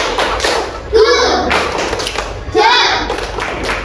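Classroom children in an Indonesian pesantren primary school perform a rhythmic patterned clap, sharp group claps and thumps arriving in two bursts, with children's voices chanting along between them.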